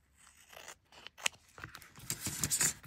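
Scissors trim paper for an artist trading card with a few close, quiet snips and crisp cutting crunches, growing busier toward the end.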